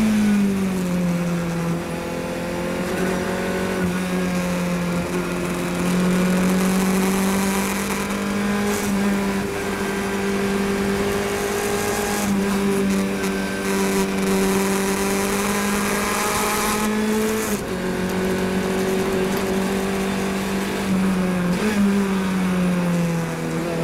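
Race car engine at the 2017 Pittsburgh Fire & Ice Majors, revving hard on track with a steady loud drone, rising pitch through the gears and several audible shifts, including one missed upshift; continuous and close.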